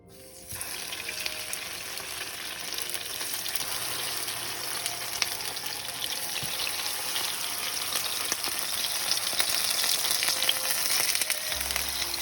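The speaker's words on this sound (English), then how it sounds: "then we can put the tofu in the pan slice by slice" Tofu slices fry in a pan greased with oil and a little salt, giving a continuous bright sizzle that builds slightly louder over time, close and without talk.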